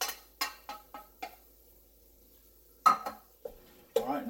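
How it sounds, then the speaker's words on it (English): Cooked rice being broken up and stirred in a hot pan while it heats through, heard as a few separate scraping, stirring strokes with quiet pauses between them. "now I'm just going to break up our rice and heat it through"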